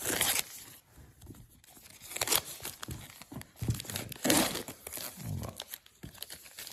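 Plastic blister wrap crinkles and tears in bursts as it comes off a Pierre Richard DVD box set, close and fairly quiet, with a brief spoken word partway through.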